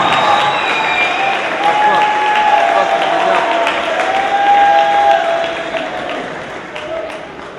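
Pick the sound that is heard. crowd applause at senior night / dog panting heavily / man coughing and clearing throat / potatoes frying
crowd applause at senior night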